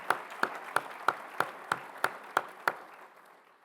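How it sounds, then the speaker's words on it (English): Clapping for award recipients at a 2023 University of Arkansas Dale Bumpers College ceremony: about nine crisp, evenly spaced claps in a steady rhythm that fade out quickly with little else around them. "let's give everybody a round of applause one more time"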